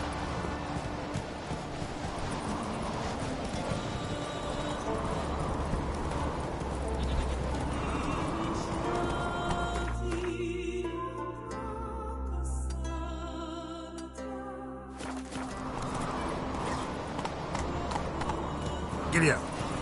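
Horse hooves galloping steadily in The Witcher 3, a continuous rhythmic clip-clop under dense game ambience and music for the whole stretch, with a short quieter patch midway.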